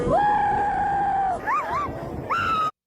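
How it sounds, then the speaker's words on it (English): A person screams while falling off a skateboard in a skateboarding video game, with a long sustained wail followed by wavering, rising yelps, loud and close. "now those screams were definitely unique"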